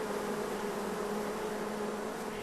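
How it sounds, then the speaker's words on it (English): Honey bee hive humming steadily at close range, a dense, even drone with a faint tonal hum running through it, continuous and unchanging with no voices. "You can hear the hum of the hive."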